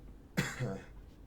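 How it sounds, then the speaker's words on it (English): A single sharp cough up close, followed by a brief throaty rasp, then quiet. "now I have this cough."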